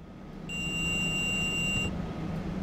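A SIFA vigilance alarm sounds in the Train Sim World 5 driving sim, heard in a DB 766.2 Dosto cab car as a steady high electronic tone lasting about a second and a half over a low cab rumble.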